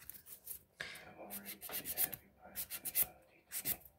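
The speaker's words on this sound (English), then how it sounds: "First of all, you always file the sidewalls." Nail file rasping along the sidewalls of an acrylic gel nail, a series of short, close scratchy strokes in irregular bursts with brief pauses between them.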